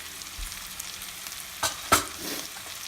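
A cauliflower and peas fry being stirred with chili powder and coriander powder. Soft steady sizzle, with a couple of sharp spatula scrapes near the end, no talk.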